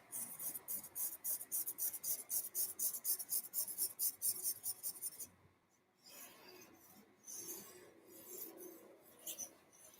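A pencil pressed hard onto paper makes a rapid run of rhythmic scratching strokes up close, then shifts to softer, irregular rubbing after a brief pause, quiet throughout.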